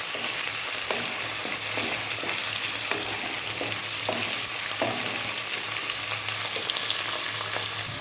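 Onions fry in a pan while being stirred, a dense, steady sizzle with periodic scraping strokes of the spoon, close and constant throughout, with no talking.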